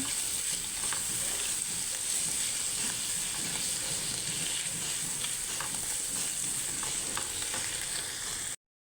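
Chicken with peanuts and mushroom seasoned with pepper frying in a pan, a constant loud sizzle with scraping stirring strokes throughout, no talking, ending abruptly.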